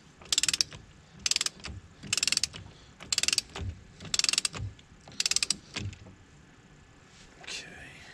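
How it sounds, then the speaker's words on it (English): A torque wrench ratchets on the front axle nut of a Kawasaki Mule 4010, sounding as six short bursts of rapid clicks at roughly regular intervals, close and crisp against a quiet background. "So they want this front axle nut torqued to 65 foot-pounds. So let's set our torque wrench to"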